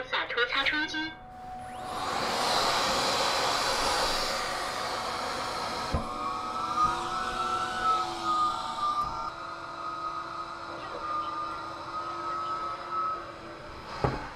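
A Satuo π0 Pro window cleaning machine runs on a window panel, starting with a loud suction whir and then settling into a steady motor hum with a rising whine.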